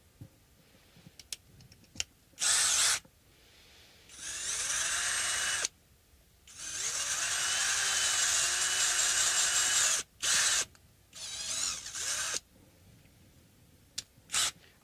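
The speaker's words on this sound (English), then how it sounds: "Last one, 3/8. But before we drill it, let me just make sure" A power drill bores a 3/8-inch hole on a workbench, running in several separate bursts of varying length, some short and one long sustained run, loud and close with quiet pauses between.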